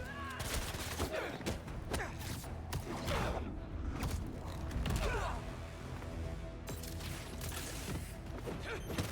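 Enemy gunfire in Marvel's Spider-Man 2 rattles in repeated dense bursts mixed with clanking, creaking mechanical noise, loud and continuous with short gaps between volleys.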